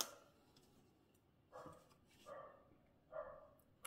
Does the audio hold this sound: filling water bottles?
no